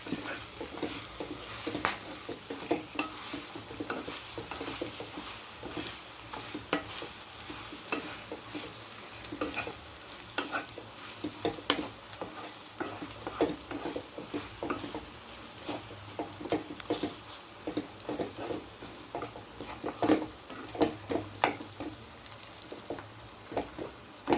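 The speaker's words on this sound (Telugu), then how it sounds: "పప్పడి వేసిన తర్వాత ఇలా కలుపుకోవాలి" Bitter gourd chilli mix, with pappu added, stirred in a hot pan, close up and alone: a continuous crackling sizzle broken by frequent scraping and tapping of the spoon for about twenty-four seconds.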